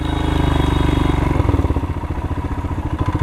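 Royal Enfield Himalayan motorcycle engine running during off-road riding, a steady loud low thump that turns into rapid uneven pulsing as the throttle changes partway through, close and continuous with no talk.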